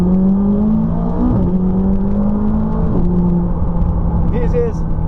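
A McLaren 570S sports car engine hums and whirs steadily at moderate revs, loud and close, with slight pitch shifts as it accelerates.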